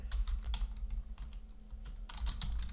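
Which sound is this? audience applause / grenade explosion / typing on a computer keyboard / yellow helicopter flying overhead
typing on a computer keyboard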